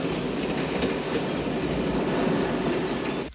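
A train rolls steadily along its rails with a dense, constant rumble and faint clickety-clack of wheels. It sounds close and sustained, with no voices over it.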